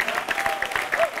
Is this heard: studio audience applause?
yes